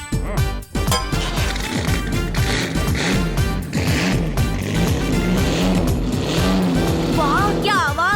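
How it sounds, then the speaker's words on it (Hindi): A cartoon car's engine and exhaust silencer roar loudly and continuously, layered with busy music-like tones and brief voices. "अब इसका साइलेंसर का आवाज तो सुनो।"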